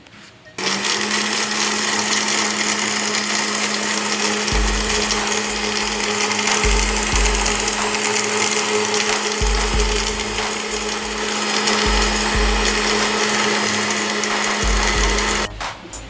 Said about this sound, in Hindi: और अब इसको हम जग को बंद करते हैं और इसको ब्लेंड कर लेते हैं।